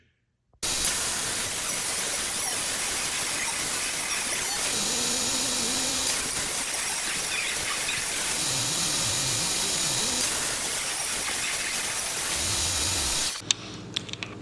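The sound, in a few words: miter saw cutting 45-degree edges on mantle boards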